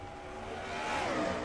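Racing trucks in a video game race at Pensacola, a faint continuous engine whine rising slightly in pitch as the pack drones on.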